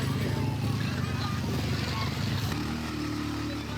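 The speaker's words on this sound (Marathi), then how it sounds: "ए अरे बाईक आहे बेटा, एवढं काय घाबरायचं." A motorbike engine idles and runs with a steady low rumble near a beach, close and continuous throughout, with people talking over it.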